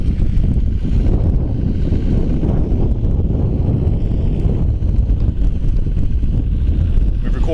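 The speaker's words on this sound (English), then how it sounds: "Extremely windy." Strong wind roars steadily across a stormwater piping construction site in St. Petersburg, Florida, buffeting the microphone with a loud, continuous low rumble for the whole stretch and no break.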